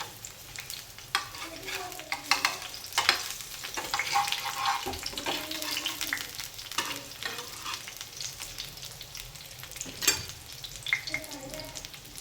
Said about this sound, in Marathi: आता तव्याने मस्त उलटे पालटे करायचे आहेत.